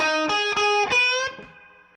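A distorted electric guitar plays a short solo blues opening phrase of a few sharply picked notes, ending on a sustained note that fades out.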